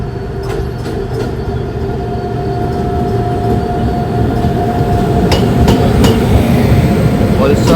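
InterCity express train hauled by a WAP 7 electric locomotive, heard from inside an AC chair car: a loud continuous rumble that swells gradually, with a faint rhythmic clatter from the wheels.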